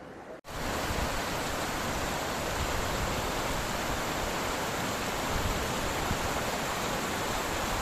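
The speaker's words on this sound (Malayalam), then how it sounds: "ഇപ്പൊ കലക്ക വെള്ളം അടിച്ചു കയറി വരുന്നത്" Muddy floodwater surges through the Vadattupara waterfalls during a 2022 flash flood, a loud, unbroken roar of rushing water filling the whole scene after a brief quiet start, with no voices.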